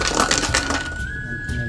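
Coins dropping into a shrine or wishing spot beside a golden statue of the Virgin, a short metallic clatter heard close up at the start, followed by a sustained faint ringing tone.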